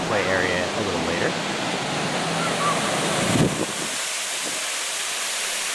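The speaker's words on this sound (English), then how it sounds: "here you have a nice view of Silver Creek Falls, and I'll be quiet so you can hear the lovely running water." Rushing water of Silver Creek Falls at Disney's Wilderness Lodge, a steady broadband roar that continues alone after a voice talks over the first half.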